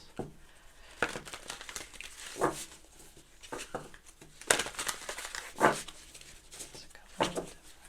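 Soft papery riffles and slaps of cards being shuffled, in irregular bursts with quiet gaps between, close and fairly faint.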